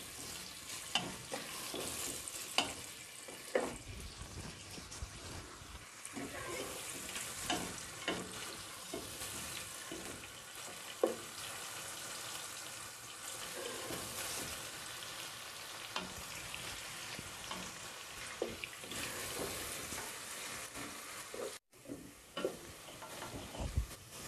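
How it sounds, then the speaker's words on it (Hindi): Onions fry over a medium flame toward light brown, a continuous soft sizzle broken by frequent stirring scrapes and clatters of a spoon against the pan, with a brief pause late on. "प्याज को ब्राउन करना है, लाइट ब्राउन। इसकी फ्लेम मीडियम रखी हुई है इसकी।"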